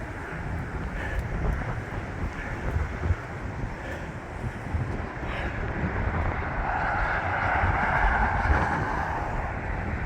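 Strong gusty wind on a cold, blustery spring day in Albuquerque roars into the microphone as a continuous low rumble that builds toward the end, with no talking.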